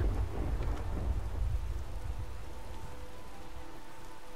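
Rain and thunder in the video game Skyrim, a steady wash of falling rain with a deep rolling thunder rumble that fades over the first seconds, no talk.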